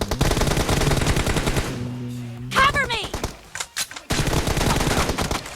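Rapid automatic gunfire in a team deathmatch shooter video game, loud dense bursts at the start and again at the end, with a short break in the middle where a voice and game effects come through.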